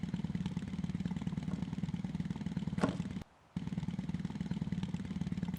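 A small motorbike engine in a video game runs steadily at a moderate level throughout, idling with a constant hum that cuts out briefly for a moment near the end before resuming.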